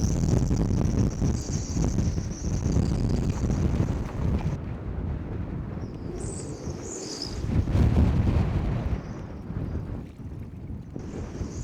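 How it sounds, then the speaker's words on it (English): Strong wind gusts buffet a boat frozen in for a Greenland winter, a loud continuous roar with rumbling microphone buffeting that swells and eases, and a faint high whistle rising now and then. "it is pretty windy right now"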